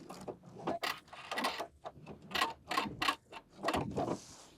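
A sewing machine stitches a zipper into a jacket, with quiet rapid mechanical bursts and pauses in an uneven rhythm, close by and fairly soft.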